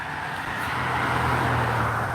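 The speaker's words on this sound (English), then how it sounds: "there's a truck being all loud. Do you hear him?" A loud truck drives past on a road without sidewalks, a steady low engine rumble and roadway noise that builds slightly and holds, close by and with no talking over it.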